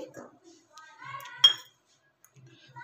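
A bowl taken out for mixing gram flour batter for masala mirchi bajji, giving a few light clinks and one sharper clatter of kitchenware, with faint talk around it.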